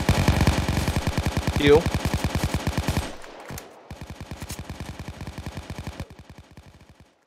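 Rapid automatic gunfire rattles in even, fast bursts in the video game Mesmer, loud and close, pausing briefly before resuming; a voice speaks a single word over it.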